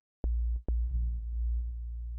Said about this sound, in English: Let's try it on the sine wave real quick.